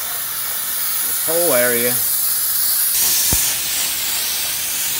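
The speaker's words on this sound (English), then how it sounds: "get yourself some brake clean. We're going to spray all this down." Brake cleaner aerosol sprayed onto the rear rotor area of a Chevy/GMC Silverado dually truck, a loud steady hiss running throughout, with someone briefly speaking near the start.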